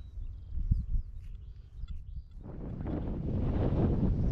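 A strong, cold wind sweeps across an open field, starting as a low rumble and swelling into a loud, steady roar of buffeting against the microphone in the second half.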